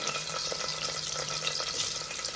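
Onions and cashews fry in hot oil with a steady, close sizzle and crackle, an even bubbling hiss that continues without talk.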